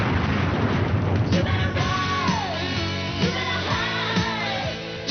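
An explosion sound effect in an MTV ident rumbles with deep booming blasts, sharp repeated impacts and a descending whistle, loud and continuous with a shouting voice mixed in.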